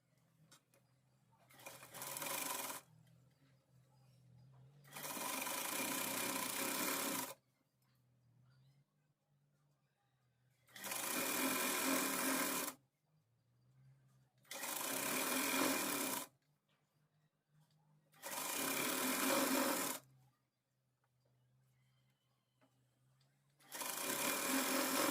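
A sewing machine stitches lehenga panels together in four or five separate bursts of a few seconds each, a close, bright mechanical whir separated by quiet pauses with faint low hum.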